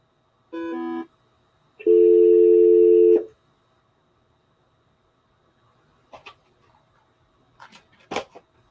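An incoming call on a telephone rings as two bright electronic tone bursts, a short one and then a longer, louder one, followed by quiet and a few faint clicks.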